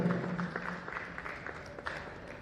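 Steady applause from an audience at a women's honours award ceremony in Indore, a dense continuous patter of clapping held at moderate level for a couple of seconds with no voices over it.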